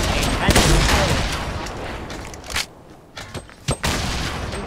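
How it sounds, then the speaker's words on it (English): Grenade blasts and gunfire from the Fortnite video game, a dense burst of firing at first that gives way to sparse sharp cracks and thuds, with talk mixed in. "We surely gotta run out of nades at some point."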